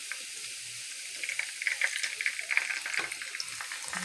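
A pork chop fries in a pan with a quiet sizzle that builds to crackly popping spatters, soft and close, with no talking.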